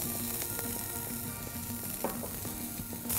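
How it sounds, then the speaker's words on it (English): Sliced onions and green chilli sizzle in oil in a pan, a continuous dense hiss with a low steady hum underneath and occasional faint clicks. "And then put some sliced onions in it."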